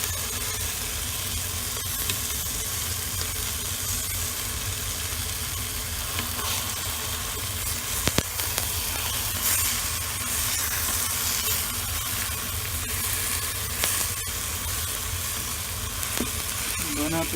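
Veal searing in a hot pan, a steady faint sizzle and crackle of frying meat, continuous with a few small pops and no talking.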